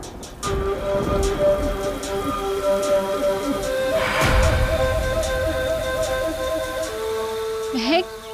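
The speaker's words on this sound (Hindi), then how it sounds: "बारिश हो रही है।" Steady rain patters down outdoors, a continuous hiss with scattered drops hitting surfaces, while people call and talk over it and a faint high tone rises near the end.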